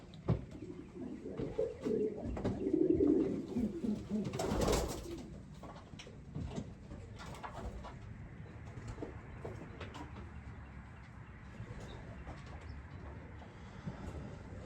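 Young pigeons in a loft give soft, low cooing and murmuring calls, loudest early on, then a quieter stretch of faint rustling and cooing.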